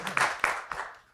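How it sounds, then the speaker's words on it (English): Audience applause at the close of a talk at a messaging and API business conference, a short burst of a few sharp claps fading quickly within about a second. "Let's have a big applause."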